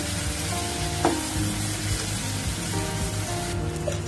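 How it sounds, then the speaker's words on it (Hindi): Dry spices fry in oil in a pan with a loud, steady crackling sizzle, close by, with scattered pops and faint scraping from stirring throughout. "जरा मसाले को फ्राई कर लीजिए सूखे मसाले को इस तरह से"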